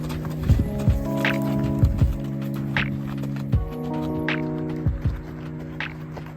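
Hooves of a horse at the starting line of a 50-mile endurance race, several heavy thuds spaced out over a steady hum, with a tonal drone underneath.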